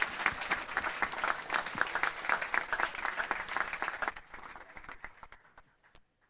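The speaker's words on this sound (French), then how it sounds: "vous pouvez applaudir bien fort s'il vous plaît" Audience applause at a strength-sports conference night, a dense burst of clapping that fills the room for several seconds, then thins and fades into scattered claps.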